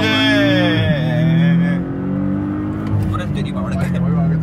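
A Lamborghini Urus engine revving and accelerating, a loud rising whine that settles into a steady drone, with talk over it.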